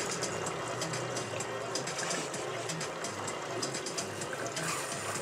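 A small fishing boat motor runs steadily with a buzzing, rattling tone amid water sounds, with faint voices in the background.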